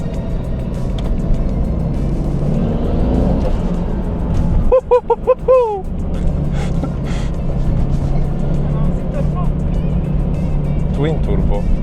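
A Nissan R32 GT-R twin-turbo with 204,000 km runs on a road in Japan, its engine a steady close drone inside the cabin, with a brief gasp and people talking over it.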